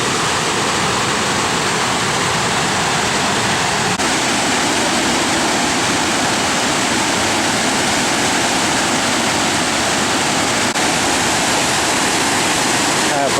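Water rushing over the Jeuram weir on a river in Aceh, a loud unbroken roar of falling water, steady and close, filling the whole stretch.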